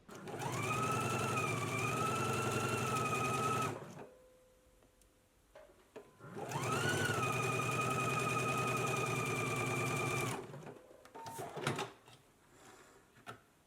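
A sewing machine stitching darts on a garment, running in two long steady whirring bursts of a few seconds each with a pause between, followed by quieter clicks and handling noises, close and without talk.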